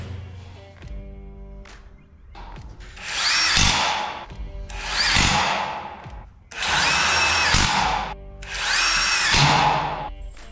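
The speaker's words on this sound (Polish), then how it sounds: "Skręcam zakrętarką z takimi oto małymi, ostrymi pchełkami." An electric screwdriver whirs in four bursts of a few seconds each, driving small sharp screws while building a suspended ceiling, with quiet handling clicks between runs.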